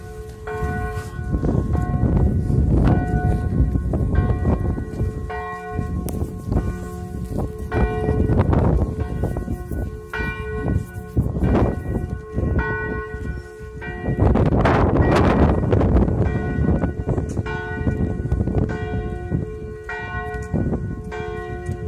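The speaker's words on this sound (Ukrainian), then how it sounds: "щоб дзвони почали дзвонити" Church bells ring in Truskavets, a continuous clangorous peal of overlapping strikes that stays loud and dense throughout, with no talk over it.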